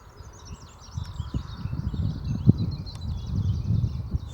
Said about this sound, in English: Sorry about the wind and noise.